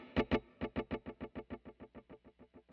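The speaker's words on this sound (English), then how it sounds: "So you can hear those delays start out and then they sort of wash out." Guitar rake run through a Halo delay effect on a Line 6 Helix: two strong plucked hits followed by a long train of evenly spaced repeats that gradually fade and wash out, heard alone.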